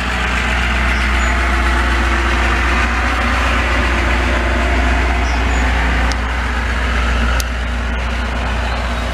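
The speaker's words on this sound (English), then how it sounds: "I have a tractor in the field behind." A tractor works in a field behind a country property, a steady low diesel drone that stays constant and moderately close throughout, with a faint brief click near the end and no talking.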